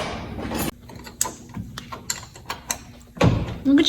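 Wrenches clinking and ratcheting during an NV4500 transmission swap on a Dodge Ram truck, a series of scattered metallic taps and clicks, fairly close, with a louder clatter near the end.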